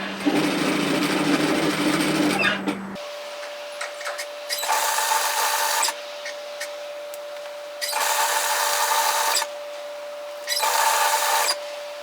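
An overlocker serges a bomber-style varsity jacket collar in several loud bursts of whirring stitching separated by pauses, with a steady hum running between the runs.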